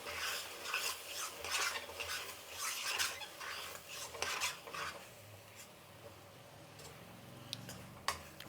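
A spoon stirs sour gongura (chukkaku) chutney in a pan, with repeated scraping strokes that are busy at first, then thin out into sparse clinks and a faint background sizzle.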